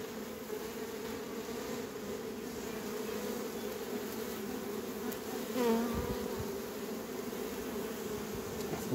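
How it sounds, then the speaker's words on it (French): A dense, steady hum of many honeybees buzzing close by on hive frames, continuous throughout with a brief louder swell partway through. "Elles sont chargées d'abeilles."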